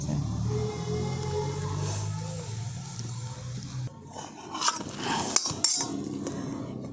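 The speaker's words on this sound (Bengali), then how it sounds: "এই দেখুন, এরকম পাতলা আর এরকম চওড়া করে আমি পনিরগুলোকে কেটে নিচ্ছি পিস পিস করে।" A knife cuts through paneer on a board, slicing it into thin, wide pieces, with a steady background hum that gives way to close scraping and a few sharp knocks against the board.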